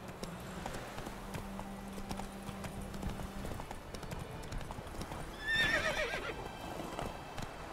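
Horse hooves clip-clop steadily in a video game, a brisk, even rhythm of light knocks. Partway through, a short whinny breaks in loudly over the hoofbeats.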